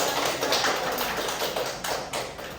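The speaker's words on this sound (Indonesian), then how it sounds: "Berikan aplaus untuk Rianti." A classroom group claps for a student, a fast dense patter of many hands that continues steadily and loud throughout.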